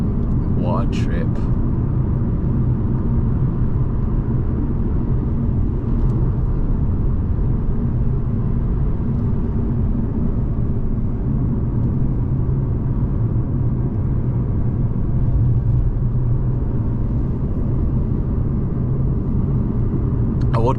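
Steady, loud rush of wind and road roar inside a moving Mercedes C-Class with the window down on a Spanish road, unbroken for the whole stretch, with a voice faintly present.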